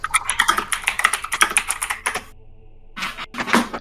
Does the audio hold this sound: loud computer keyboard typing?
yes